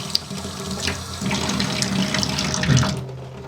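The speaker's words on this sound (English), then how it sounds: "And just go ahead and rinse it off." A soldered brass joint is rinsed under a running tap, giving a steady close splashing of water with small shifts as the piece moves in the stream.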